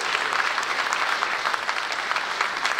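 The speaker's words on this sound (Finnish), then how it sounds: "Näillä sanoilla annetaan valtavat aplodit Alexander Stubb." Sustained, dense applause from a campaign rally audience in Kouvola greeting Finnish presidential candidate Alexander Stubb, steady and loud throughout with no pauses or speech.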